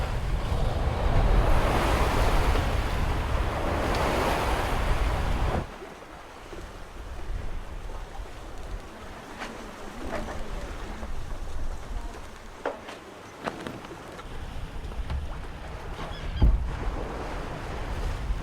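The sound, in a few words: sea waves and wind aboard sailboat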